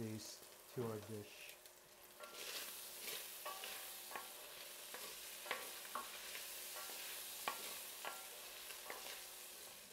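Bacon crisping in rendered fat in a pan, a continuous close sizzle with scattered crackles and pops, fairly quiet, a brief voice heard at the start.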